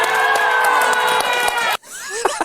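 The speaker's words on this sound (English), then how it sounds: "All these people screaming." A large crowd screaming and cheering loudly and continuously, a dense roar of voices that cuts off abruptly, followed by a few scattered shouts.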